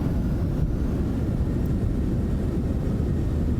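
Citation X business jet in a flight simulator game deploying thrust reversers after landing, a loud continuous roaring rumble of engine and wind noise, steady and broad without a break, no talk.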